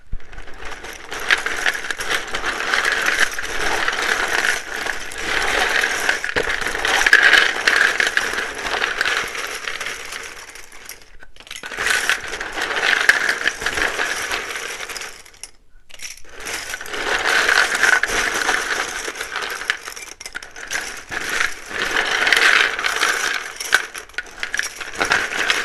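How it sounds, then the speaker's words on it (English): Tarot cards are shuffled loudly and continuously, with dense riffling and clattering bursts close by, broken by two short pauses. "It can be very loud when I shuffle these."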